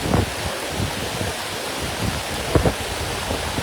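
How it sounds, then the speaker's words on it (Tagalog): Heavy rain pours at Tubod Bridge in Mahayahay as a dense, steady hiss, with wind gusts and a few sharper thumps mixed in and no voices. "kusog pa kayong ulan"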